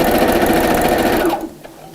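A sewing machine stitches close to the cord on burlap hessian bunting, running as a loud, steady mechanical whir for over a second before stopping abruptly, leaving near silence.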